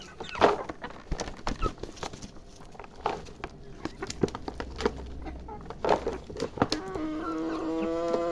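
Portuguese chickens cluck softly as they peck at a bucketful of leaves poured out for them. Scattered close clucks and short calls rise over a quiet background, with a person talking at intervals.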